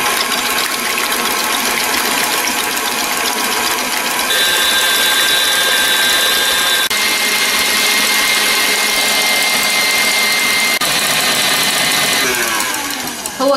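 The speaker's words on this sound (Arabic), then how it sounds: "وانا بضرب البيض هتاني اضرب لحد ما يفور قدامي" Electric mixer beating eggs at high speed for a sponge cake, a loud continuous whirring motor with steady whining tones that shift in pitch partway through, running alone without pause.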